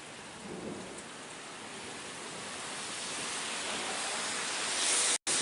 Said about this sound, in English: Since the rain's come down, you can see wind's picking up a little bit anyway.